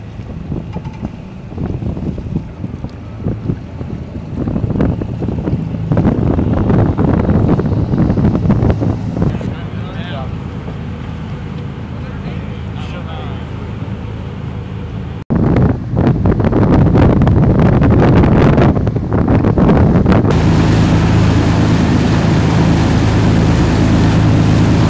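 A Combat Boat 90 military assault craft on a demonstration ride, loud rushing engine and hull noise over water with heavy wind buffeting the microphone, surging louder toward the end, and faint voices mixed in.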